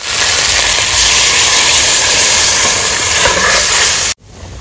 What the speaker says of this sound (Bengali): এবার দিয়ে দেবো মাছের ঝোলটা